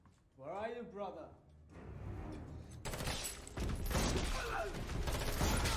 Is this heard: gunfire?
yes